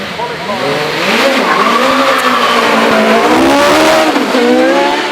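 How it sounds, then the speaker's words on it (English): A Gould GR55 hillclimb car with a torquey 4-litre Judd V8 engine climbs the Shelsley Walsh hill, loud and close, the engine pitch rising and falling through several gear changes with tyre squeal, while a voice talks over it. "at the wheel of the ex-Roy Lane Gould GR55, powered by a torquey 4-litre Judd V8"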